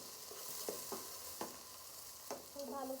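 Garlic paste frying in a pan with tomato, a soft steady sizzle broken by several short scraping stirs of a spoon.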